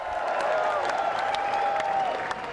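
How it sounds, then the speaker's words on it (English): A packed party conference crowd applauds and chants as Labour leader Jeremy Corbyn walks in, a dense, steady roar of clapping and cheering with a sustained chanting tone running through it. "2 minutes and 32 seconds of chanting and applause is adoration and"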